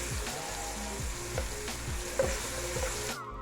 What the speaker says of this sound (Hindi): 1 टेबल स्पून भर के मैं लहसुन और अदरक का पेस्ट डाल दूँगी। इसको भी अच्छी तरह मिक्स कर लेना।